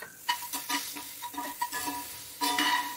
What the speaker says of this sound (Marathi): परतून घ्यायचं आहे फ्रेंड्स भोपळा.